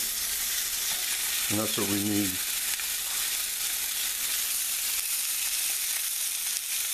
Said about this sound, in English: Well, it's sizzling,